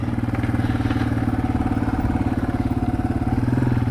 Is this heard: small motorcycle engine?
yes